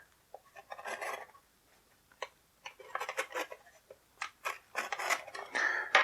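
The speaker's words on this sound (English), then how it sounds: "And one more piece of tape on this thing." Tape being cut and pulled while packaging a G.I. Joe Rise of Cobra Mantis Attack Craft toy box, heard as a sequence of close, sharp rasping and snipping bursts that grow denser toward the end, with no talking.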